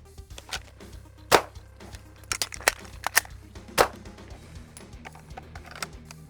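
Glock pistol being reloaded by hand, with the support hand gripping the front slide serrations: a few sharp metallic clicks and clacks, one or two louder snaps, close by against quiet room noise.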